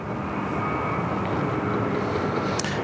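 A Wamos Air jet slowly taxiing at Sydney Airport, a steady loud engine whine and broadband roar with a sustained high tone, continuous and close, with a faint brief click near the end.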